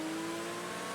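A Roof supercar engine in Project Gotham Racing 3 holds a steady, droning high-rev tone for a brief second, loud and continuous with no voices.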